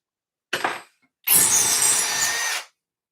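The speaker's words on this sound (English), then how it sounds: "I doubt this thing will even drill wood very effectively" A brief burst of a Milwaukee power drill, a short pause, then a longer steady high-pitched whine of the drill boring into wood, stopping abruptly.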